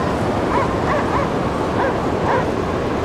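A dog barks repeatedly in the video game Cryostasis, several short yaps spaced about half a second apart over a constant loud wind-like background roar.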